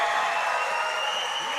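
A crowd cheers and roars at a high school volleyball match in a gym, a steady loud wash of noise over a short stretch.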